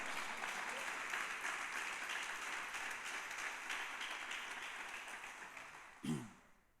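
Church congregation applauding, a steady wash of clapping that slowly fades, ending with a brief thump before quiet.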